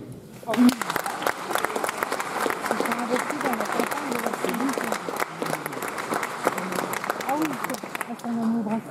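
An audience at the Arras Film Festival applauds steadily for several seconds, a dense patter of clapping with a voice speaking over it.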